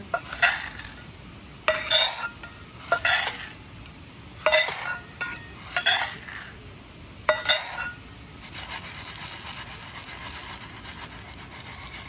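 Intermittent metallic clinks and scraping of coffee beans being roasted and stirred in a metal pot outdoors at a campsite, coming in short bursts with quiet pauses between.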